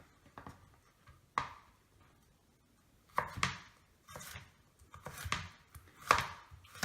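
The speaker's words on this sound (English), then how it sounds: "I'm going to chop up some garlic" Garlic chopped with a knife on a board for a quick sauce gives a handful of close, crisp knocks in uneven bursts, with quiet gaps between them and no talking.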